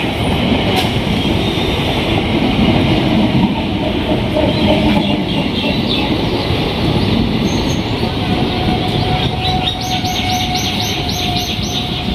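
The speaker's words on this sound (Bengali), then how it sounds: "ট্রেন আমাদের ছেড়ে দিল চৌড়িগাছা রেলওয়ে স্টেশন থেকে" A passenger train pulls away from Chowrigachha railway station on the Katwa to Azimganj line, giving a steady broadband rumble of wheels and carriages throughout, with birds chirping faintly above it.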